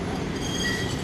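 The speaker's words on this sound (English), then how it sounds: "It's the Vodafone tram" A city tram running into town on street rails, a steady loud rumble of wheels on track with a faint high squeal riding over it, close by and with no voices.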